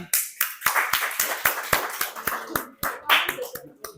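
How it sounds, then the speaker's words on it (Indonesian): A small group of trainees at a coding and AI training session claps in rhythmic unison, sharp near slaps in a steady beat lasting about four seconds, with faint voices mixed in. "Oke, tepuk tangan."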